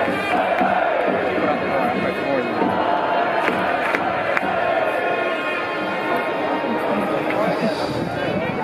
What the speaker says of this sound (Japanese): 皆さんどうぞ大きな拍手をお迎えください。